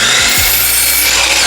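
Saw biting into a 2.5 inch wide wooden piece to cut it to length, a loud, close, harsh rasping stroke lasting the whole moment after a couple of brief low thumps at the start.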